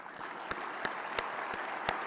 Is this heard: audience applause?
yes